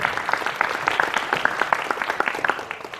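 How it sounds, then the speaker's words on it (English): A room of spectators at a space-themed game jam claps for their sponsor, a close, lively round of individual hand claps, crisp and fairly loud, holding steady for a few seconds. "Give them a round of applause"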